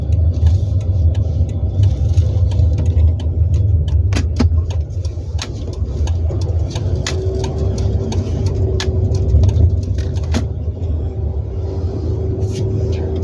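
A manual car driving in second gear gives a steady, loud engine hum and low rumble inside the cabin, with faint clicks and a rising tone partway through.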